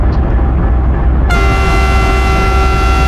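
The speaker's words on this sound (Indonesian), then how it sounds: "coba kita dengarkan suara klaksonnya ya" An orange locomotive sounds its horn: rumbling engine noise, then a loud, sustained multi-tone blast starts partway through and holds steady to the end, close and piercing.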